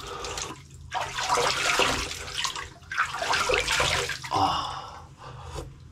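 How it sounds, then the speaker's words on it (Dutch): Ice-cold tap water splashed onto a face in repeated bursts, two long surging splashes then a shorter one, close and fairly loud, with a brief exclamation from the person between them. "Zo is lekker ijskoud water over je gezicht."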